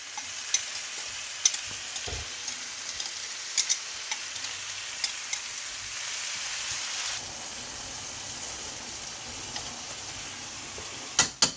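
Sautéed mushrooms tipped into a pan of rabbit, sizzling and crackling steadily in hot fat, with scattered louder pops and clicks of a utensil against the pan throughout, close and continuous with no talk.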